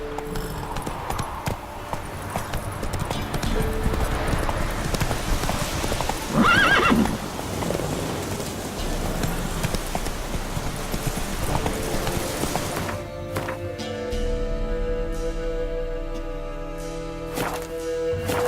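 Horse hooves clip-clop steadily in The Witcher 3 open world, with a loud neigh and whinny midway, all over a background of game music that thins out toward the end.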